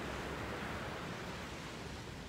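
Ocean waves wash onto a beach on the Costa del Sol as a faint, even hiss of surf, a continuous wash of noise with no voices.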